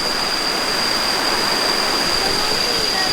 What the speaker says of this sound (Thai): ตอนนี้เป็นน้ำตกเลยนะ